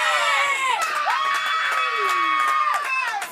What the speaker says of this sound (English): And the crowd like what they see